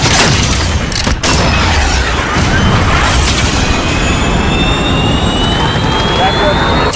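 Jaguar airstrike jet in Call of Duty: Modern Warfare on the Rust map firing a missile, a loud close roaring jet engine and rushing blast that fill the whole stretch, with faint voices under it.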